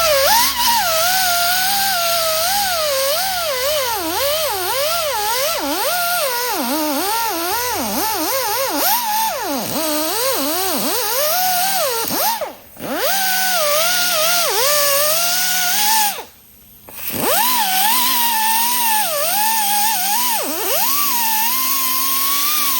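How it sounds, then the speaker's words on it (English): A whiz wheel grinds and scuffs a tractor part, its high whine rising and falling as the tool is pressed and eased off, with two brief pauses before it spins up again. "I'm gonna take a whiz wheel to this too"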